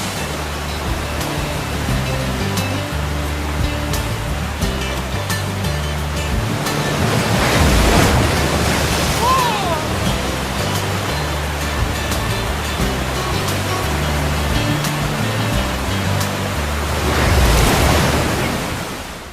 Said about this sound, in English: The rapids and falls of the Colorado River are a whitewater rafter's dream.